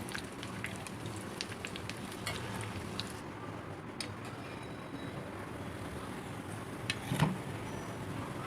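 Aloo tikki potato patties fry in hot oil with a faint, steady crackling sizzle, broken by occasional light clinks of a utensil against the pan.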